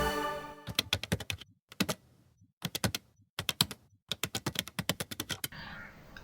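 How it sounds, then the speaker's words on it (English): Loud, fast typing on a computer keyboard, with keys banged hard in rapid clattering bursts separated by short pauses, close and with no voices. "I bang those keys as if my life depends on it"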